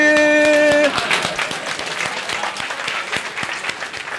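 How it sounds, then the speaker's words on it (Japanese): Audience applause at a KUDEN main stage talk, bursting in just as a musical tone cuts off, then a dense, steady clatter of many hands continuing for several seconds. "じゃあ一旦拍手"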